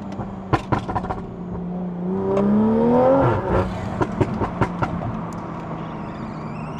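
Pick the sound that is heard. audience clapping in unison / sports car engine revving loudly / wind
sports car engine revving loudly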